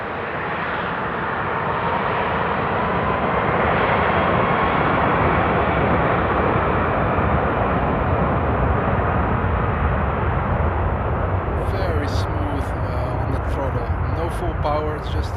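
A Lufthansa Airbus A330 taking off at Frankfurt Airport on a frosty day, a loud, sustained engine roar that holds steady throughout, with people talking faintly toward the end.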